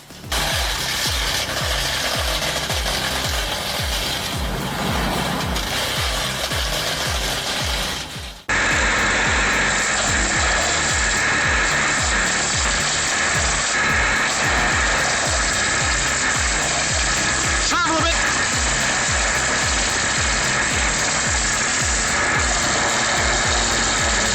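A homemade engine-powered wood shredder grinds through branches with a loud, continuous mechanical roar and rasping chatter, shifting abruptly partway through to a harsher, brighter steady grind.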